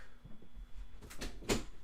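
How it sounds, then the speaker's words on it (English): A bedroom door swings shut at home, ending in a short firm knock of the latch, heard close in a quiet room with a fan humming steadily in the background. "Just close my door real quick."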